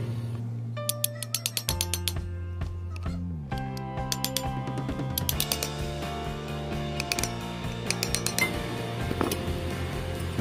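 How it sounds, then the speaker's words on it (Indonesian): Metal hammer taps on the front bushing of a Regency oscillating fan's motor housing, a light rhythmic series of sharp clinks with ringing metallic overtones, close and fairly steady throughout. "Untuk mengencangkannya kita pukul, caranya seperti ini, sedikit pelan-pelan."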